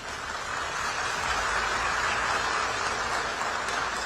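A large crowd claps for Modi, a continuous, even wash of applause that holds steady throughout, loud and unbroken, with no voices rising above it.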